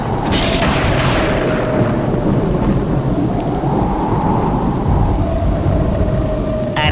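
Animated cartoon rain pours steadily and loudly as a deep roll of thunder rumbles through the downpour, with no voices.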